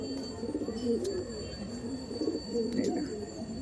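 Male pigeon at a home loft where over a hundred pigeons are kept, cooing in low repeated warbling phrases close by, steady under a busy background with faint voices.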